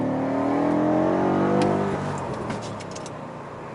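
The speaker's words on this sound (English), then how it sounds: "The acceleration of this car is a full second quicker than the previous generation." A 2019 BMW M5 with all-wheel drive accelerating hard, its engine note climbing loudly and steadily before easing off as it shifts, heard up close with no talking.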